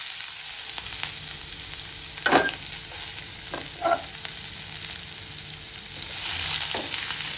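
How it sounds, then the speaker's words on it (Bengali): Chopped onions sizzle steadily in hot oil with a dried red chilli as they are stirred for a Bengali mustard-poppy prawn curry, a continuous close frying hiss broken by a few brief spatula scrapes, no talk. "পেঁয়াজটা ভাজা করে নিচ্ছি।"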